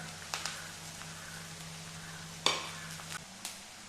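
Ginger, green chilli and garlic frying in hot oil for a beetroot pickle, a soft steady sizzle with a few light stirring taps and one sharper scrape, close and fairly quiet.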